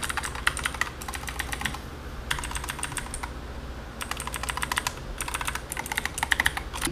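Fast typing on a Gigaware K28 87-key mechanical keyboard produces close, crisp clicking in quick bursts separated by short pauses, with no talking over it.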